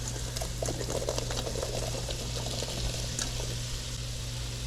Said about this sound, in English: All right, so we'll rinse these potatoes.